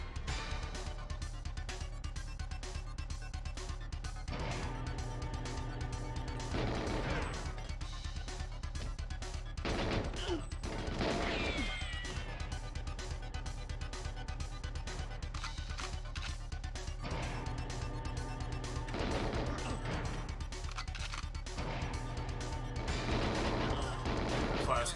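Gunfire in GoldenEye 007 on the N64 crackles in repeated bursts and sharp single shots with crashing impacts, mixed among game sounds and a steady hum, while a voice talks now and then.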